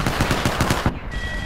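Rapid automatic gunfire bursts in a battle royale shooter game, a steady run of sharp repeated shots for most of the moment, then cutting off into a brief ringing tone.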